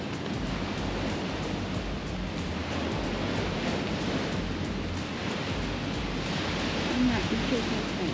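Ocean waves roll onto a beach at high tide, a steady broadband wash of surf with some wind rumble, building slightly louder near the end.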